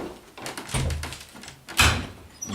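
A small cupboard door in a bedroom is pulled open, with a soft rattle and rubbing of wood, then a firmer thunk near the end, all close by.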